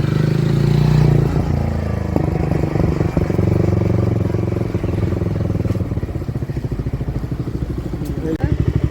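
A Jawa motorcycle pulls up and settles into a loud, close, steady thumping idle, its rhythmic engine pulse carrying on with people talking over it.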